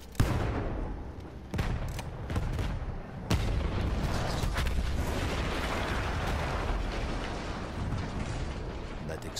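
Battlefield 1 explosion on the Italy front: a sharp blast near 3.3 seconds cuts through constant heavy rumble of gunfire and artillery, with earlier bursts and a loud, dense war din throughout.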